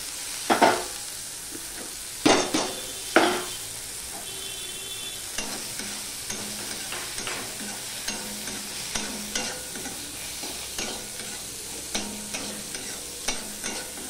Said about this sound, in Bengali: টমেটো কুচি দিয়েও আমি এর সাথে ভালো করে ভেজে নেব।